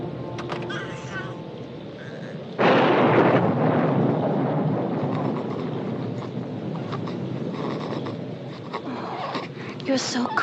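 A thunderstorm rumbles through an indoor scene, a broad loud roll of thunder surging in abruptly partway through and lingering under continuous storm noise, with people speaking over it.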